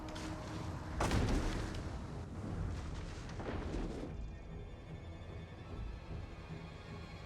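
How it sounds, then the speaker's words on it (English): Ballistas fire in a Total War: Rome 2 battle, heavy impacts booming in a loud burst then a second thump, fading into a low rumbling battlefield wash. "Quite a lot of damage being done though by my ballistas, which is nice."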